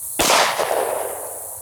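A single sharp shot from a Glock Gen 4 Model 19 pistol firing 9mm +P 147 grain jacketed hollow points, loud and close, with a ringing decay afterward.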